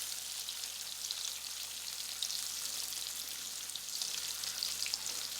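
Leftover brisket sizzling in a chili pot, a steady close frying crackle with fine popping spatters throughout, no talk.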